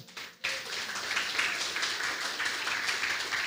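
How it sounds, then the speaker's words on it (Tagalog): A church congregation breaks into applause, a sudden wash of many hands clapping that swells after a brief pause and continues steadily, heard from a moderate distance in a large hall. "Palakpak naman sa Panginoon."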